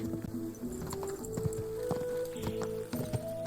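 A horse gallops in the video game Kingdom Come: Deliverance II, rapid rhythmic hoofbeats drumming steadily over music and ambient sound.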